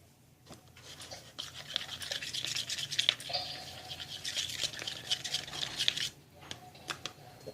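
Mint slime being stirred and mixed by hand, a close, squishy, sticky clicking and smacking that comes in uneven bursts for several seconds, then trails off into a few sparse squelches.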